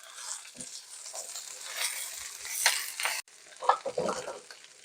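Beet leaves are stirred in a hot pan, a sizzling hiss under scraping utensil strokes and a few clinks against the pan, close and fairly loud over about five seconds.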